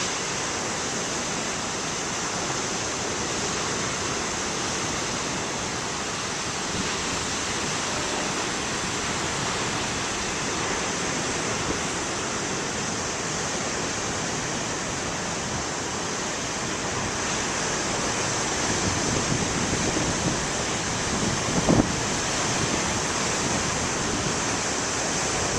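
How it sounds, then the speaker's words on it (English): Big ocean waves break on the shore on a snowy winter morning, a steady, loud, broadband roar of surf with slow swells and one brief thump near the end. "Got some waves here for you."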